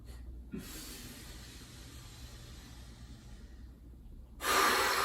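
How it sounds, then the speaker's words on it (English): Deep, slow breathing during a quick morning stretching workout, a steady soft rush of air through most of the stretch, ending in a louder, fuller exhale close by. "Take a deep breath."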